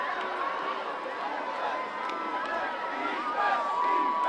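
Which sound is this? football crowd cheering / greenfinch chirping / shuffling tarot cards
football crowd cheering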